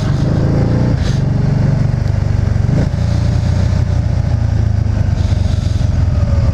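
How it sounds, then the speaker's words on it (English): Can-Am Spyder Roadster RT three-wheeled motorcycle engine during a test ride, a loud, close, continuous throbbing drone with slight rises and dips in revs, no talking. "So there you go, test ride on the Spyder"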